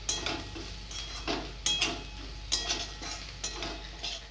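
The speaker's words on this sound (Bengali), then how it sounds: "একটু নাড়াচাড়া করো।" A spoon scrapes and knocks softly in a pot of browned onion with chilli powder, turmeric, coriander and cumin powder, in quiet, irregular strokes with no talking.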